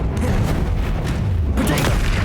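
A Confringo fire spell blast in Hogwarts Legacy: a dense, rumbling booming burst that fills the short moment, loud and close, with a second surge toward the end.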